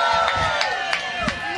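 A crowd cheers along the route of the 2024 New York City St. Patrick's Day Parade: a broad, distant roar with a few sharper bursts rising above it.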